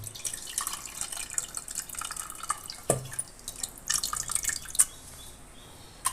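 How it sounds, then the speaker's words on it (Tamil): Dissolved tamarind water is poured into a pan of brinjal curry, heard as soft splashes and drips with a few faint clinks, quiet and close. "இந்த புளியை நம்ம இதில் ஆட் பண்ணிடலாம்"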